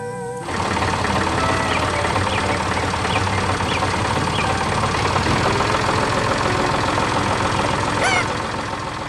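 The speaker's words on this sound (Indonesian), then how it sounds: "Dengan suara mesin yang tenang, traktor itu menggerakkan tanah dan menanam kehidupan baru." A yellow tractor engine starts up and then runs at a steady idle, a loud, even, close chugging drone with light rhythmic knocking throughout.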